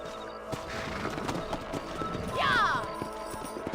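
Horse hooves clip-clop in a steady walking rhythm in the Red Dead Redemption video game, then a clear whinny rises near the end, with speech mixed in underneath.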